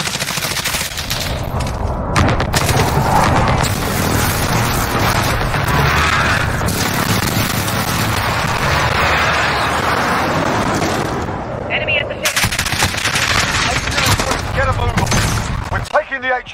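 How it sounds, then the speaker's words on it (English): A precision airstrike in Modern Warfare multiplayer: a loud, dense barrage of explosions and rattling gunfire that runs almost without a break and cuts out briefly near the end. "Enemy precision airstrike."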